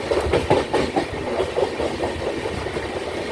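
The Kannur–Thiruvananthapuram Jan Shatabdi stands waiting with its engine running, a steady throbbing idle with faint rhythmic knocks, close and continuous, with no talking.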